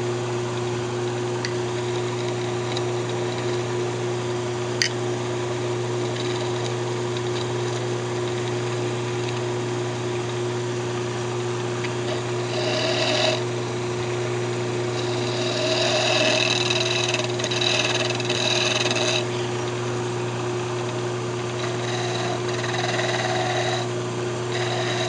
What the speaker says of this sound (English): Just bring the lathe back up.